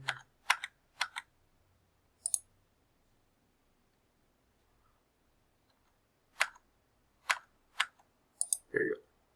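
Crisp computer mouse clicks, close and quiet, come in short bunches of two or three, separated by long near-silent gaps.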